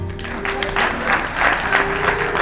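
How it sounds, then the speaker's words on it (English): A church congregation claps scattered, uneven applause during a gospel service, with individual claps standing out. Sustained organ tones and some voices sit under the clapping. "Please give my technician a hand."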